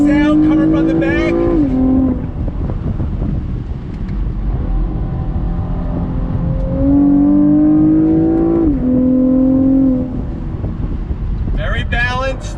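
A 2021 Chevrolet Camaro RS convertible's engine rises in pitch under throttle, drops at upshifts, then climbs again, loud over wind noise, with a voice talking over it.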